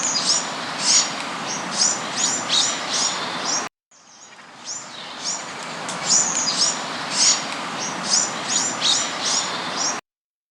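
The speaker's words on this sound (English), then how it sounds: "A bird chirps." Many birds chirp and tweet in a steady, busy chorus, bright repeated calls over a hissy outdoor background with a brief break partway through, no talking.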